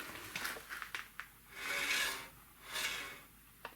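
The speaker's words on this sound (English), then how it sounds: "scraping on the heat shield here in front" A BMW E46 brake rotor, part of a big brake upgrade for endurance racing, scrapes against the front heat shield. The rasping comes in long swelling strokes as the rotor turns, with a few short scuffs before them, close up and with no talking.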